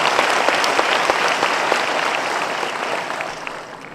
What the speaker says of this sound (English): Can we have a huge round of applause for sir on that?